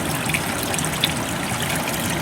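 Engine oil draining from a twin-turbo 3.5L EcoBoost Ford F-150 into a pan, a steady close trickling, splashing pour that runs continuously without any voices.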